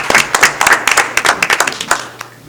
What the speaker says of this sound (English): Give Robin a great big round of applause.